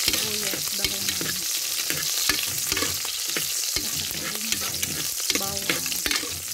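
Garlic and onion frying in a pan, with a dense, continuous crackling sizzle and frequent spatula knocks and scrapes against the pan, close and loud throughout with no talking.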